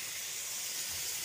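Water hits a hot pan of eggplant frying with dried fish, giving a steady, close, bright sizzling hiss that holds evenly for the whole moment with no talk.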